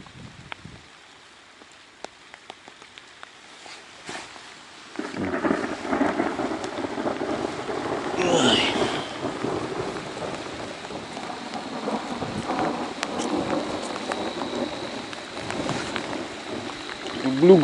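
Early-June thunderstorm with heavy rain during fishing, opening with scattered drops before a steady loud downpour sets in, a rumble of thunder rising mid-way, rain hissing continuously to the end.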